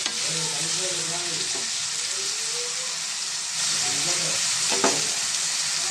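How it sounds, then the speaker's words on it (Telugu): Onions with salt and turmeric fry in a pan for a chicken curry, giving a steady close sizzle with occasional stirring scrapes, while a voice talks faintly underneath. "ఇద్దరు కలర్లు వరకు ఫ్రై చేసుకోండి దీంట్లో కొంచెం సాల్ట్ ఇది పసుపు వేసుకున్నాం"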